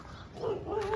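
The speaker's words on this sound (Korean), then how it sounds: "어머, 또 짖는다." A dog barks and yips in short bursts, fairly close and moderately loud, with soft background noise and no clear talk.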